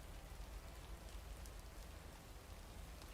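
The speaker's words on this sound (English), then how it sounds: "The rain's louder than my truck." Steady rain in Oregon, heard from inside a mail truck as a dense, even hiss and patter that stays constant throughout with no voices.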